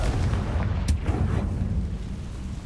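A Confringo fire spell in the Hogwarts Legacy video game lets off a loud, rumbling blast, a dense low roar with a few sharp bursts layered on top, sustained throughout with no speech.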